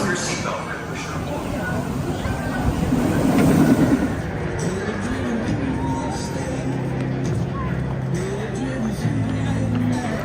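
A roller coaster train at Dorney Park amusement park rolls in and slows to a stop, giving a steady mechanical rumble with a brief louder swell, while crowd chatter murmurs in the background.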